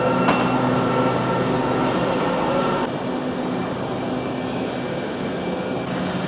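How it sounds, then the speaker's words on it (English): Train arrival noise at London Paddington station: a loud, steady rumble and roar of a train and station machinery, with a sharp hiss early on and a slight drop in level midway, no talking. "Just coming off the train now in Paddington. Pretty loud, to be fair."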